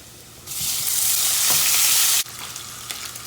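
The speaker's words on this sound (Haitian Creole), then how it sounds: "M'a quitté l'ail bien frit. Après ça, m'a mettre épices là." Garlic and spices frying in a hot pan: a loud, bright, steady sizzle bursts in after half a second, holds for under two seconds, then drops abruptly to a quieter hiss.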